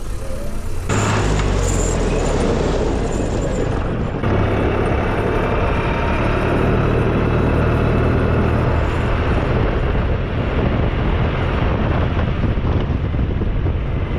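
A Valmet 505T tractor on studded tires rolls over a speed bump on polished ice and brakes, its loud, close engine rumbling steadily under constant wind buffeting for the whole stretch.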